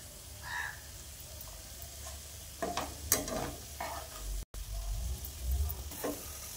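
Eggs fry and get stirred in a pan, a steady sizzle with scraping stir strokes and utensil clinks in the middle stretch, close and moderately loud, no talking.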